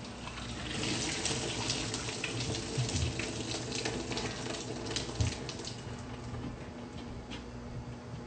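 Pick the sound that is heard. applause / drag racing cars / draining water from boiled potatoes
draining water from boiled potatoes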